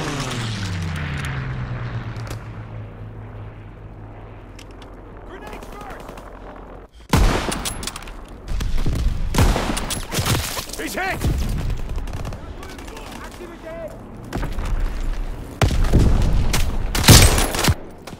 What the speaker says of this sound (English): Call for a strafing run.